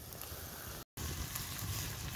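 Double bacon cheeseburgers sizzle over a campfire on a wild camping trip in Galloway forest, Scotland, a steady close crackling hiss that runs on with a brief gap.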